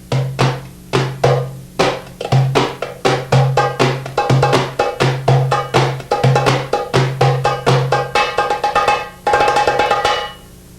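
Soft pops struck on a dumbek drum in a steady groove, a long run of sharp, bright hits with ringing overtones over a low resonant tone, close and clear with no talking.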